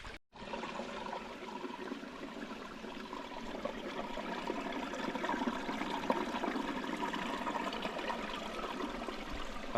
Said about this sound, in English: that's the sound of the creek running under those rocks